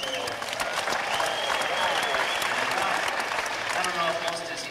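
Audience applause at a 1971 live concert in an armory hall, a dense, steady wash of many hands clapping, loud and continuous throughout with no voices standing out.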